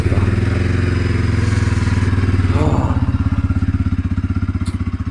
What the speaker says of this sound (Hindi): तो पहले हम करते हैं अपना बाइक कोल्ड स्टार्ट